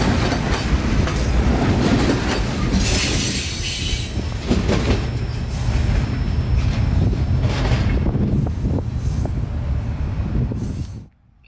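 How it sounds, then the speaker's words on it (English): A long northbound freight train rumbles past close by near Sun City, Florida, steady roaring wheels with rhythmic clickety-clack and faint squeals, loud throughout before cutting off. "these guys have got an abnormally long train today, but they ain't wasting no time"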